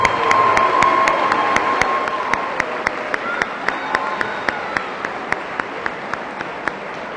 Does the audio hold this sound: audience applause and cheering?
yes